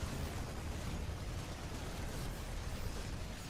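Explosions from units and a photon cannon being destroyed in StarCraft II form a dense, continuous rumbling barrage of bursts and pops at moderate level with no pauses.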